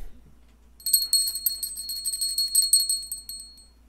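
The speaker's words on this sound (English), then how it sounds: "It's a bell." Small handheld bell given as an anniversary gift, rung repeatedly in rapid bright tinkling bursts, close and clear against a quiet room.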